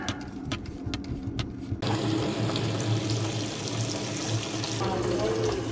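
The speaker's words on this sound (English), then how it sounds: "Open the water." Water gushes from a repaired tap, starting abruptly after a quiet stretch with a few clicks and then running steadily as a loud, broad hiss to the end.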